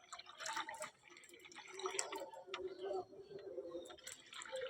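Yogurt lassi is stirred and churned in a container until frothy, giving quick wet sloshing and dripping splashes with soft clicks, close and fairly quiet, with a faint voice in the background.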